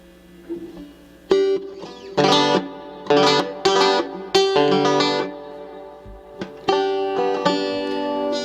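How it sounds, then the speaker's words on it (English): A banjo played through a reverb effect rings out in separate plucked strums and short phrases, each one trailing off into a washy echo, clear and close with pauses between the bursts. "I'll turn on the reverb a second here."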